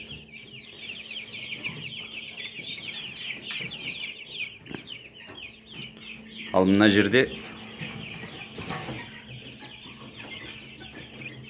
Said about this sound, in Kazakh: күрке тауықтың балапандары